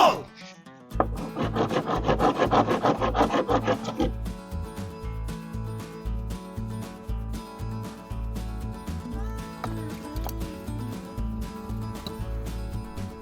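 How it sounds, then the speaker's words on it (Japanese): Rough sanding of cured FRP patched over a hole in a camper van's side step, a loud rasping scrub at first, then a run of steady rhythmic back-and-forth strokes close by. "1日経ってもうカチカチに固まってるので、まずは粗く削っていきたいと思います。"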